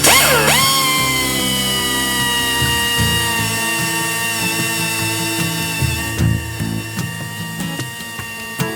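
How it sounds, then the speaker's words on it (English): A power drill bores holes in a car body panel during an old-car restoration. The motor whines up sharply at the start, then holds a loud, close, sustained tone with rattling, grinding bursts as the bit works through the metal. "Let me drill some holes, and I'll put some clecos."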